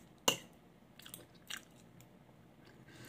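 A sharp, crisp bite into something hard, followed by a few softer crunching chews nearby, quiet otherwise with no speech.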